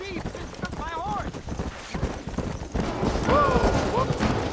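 Horse hooves in the Red Dead Redemption video game, a quick clip-clop of hoofbeats mixed with game effects and brief whinny-like tones, heard under overlapping talk.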